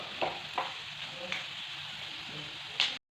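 Bitter gourd, small potatoes and papad fry in a pan with a steady sizzle, broken by a few short stirring scrapes and clinks at close range.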